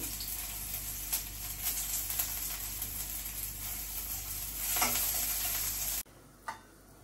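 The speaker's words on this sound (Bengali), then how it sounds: "এই যে এখন পেঁয়াজটা ভাজা নিতেছি।" Onions frying in a pan give a steady, close hiss and crackle for about six seconds, with a few louder pops, then the sizzle drops away to quiet with one brief clatter.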